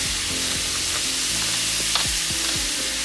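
Garlic-herb seasoning blend and freshly ground black pepper sizzle and fry steadily in a hot pan while being stirred, with scraping strokes of the spoon breaking through the constant crackle.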